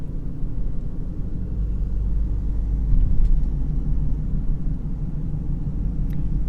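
A car drives through a mountain town among cedar and pine, heard from inside as a steady low road rumble and engine drone that continues without pause.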